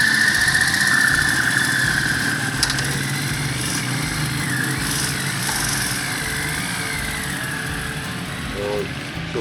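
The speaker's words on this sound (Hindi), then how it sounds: "तो फ्यूल पंप स्टार्ट होगा" A motorcycle engine on a touring bike near Gilgit on the way to Naltar Valley idles steadily and close by, a constant rumbling drone with a high whine above it.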